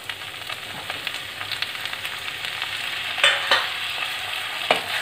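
Chopped tomatoes fry in a pan for Kerala-style gobi manchurian, giving a steady bright sizzle with a few sharp stirring clacks near the end and no talking.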